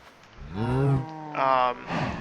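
A cow in the video game Minecraft gives two loud, close moos, the first a long low bellow and the second a shorter, brighter call, with a quiet tail of sound after.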